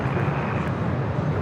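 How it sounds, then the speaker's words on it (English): An airliner at Los Angeles International Airport, either an Airbus A321neo or a British Airways Boeing 777-300ER arriving from London Heathrow, gives a steady, loud, broadband jet roar with a low rumble that holds for the whole moment, with no talk. "It's an A321neo, followed by another heavy British Airways flight 281, the 777 at 300ER coming up from London Heathrow."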